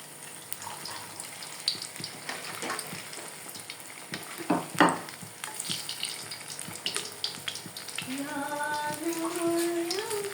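Corn fritter batter frying in a pan, part of a Bojonegoro-style home cooking session: a steady sizzle with scrapes and clatter as the omelette is flipped, then rising squeaky utensil or pan sounds near the end.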